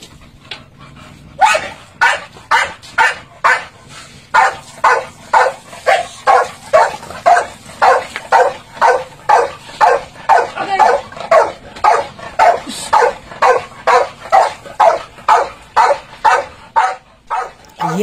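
Several American Bully dogs bark loudly and repeatedly just after a bath, a steady stream of close, evenly spaced barks with no talk over them.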